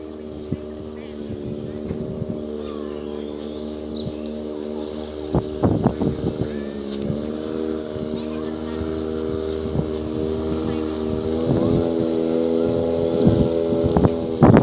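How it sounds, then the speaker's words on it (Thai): A long-tail boat engine drones steadily on a ride to Koh Kret island, with wind noise and occasional thumps and knocks over the constant motor hum, and someone talks over it. "ทางเดียวที่เราจะมาเกาะเกร็ดนะครับ คือเรือ"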